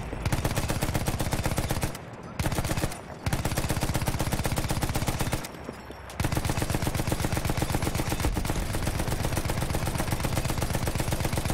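A mounted machine gun fires in long continuous bursts in Battlefield 1, a dense rapid rattle that is loud and close, with two brief pauses between streams of fire.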